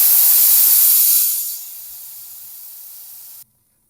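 Air hisses out of a RideNow TPU bicycle inner tube inside a 700x28c Vittoria Rubino Pro tire: a loud, close, steady rush that weakens after a second and a half, then stops abruptly.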